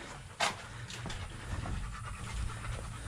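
A dog pants rapidly and steadily at close range, with a brief louder sniff or huff near the start, over a low background hum.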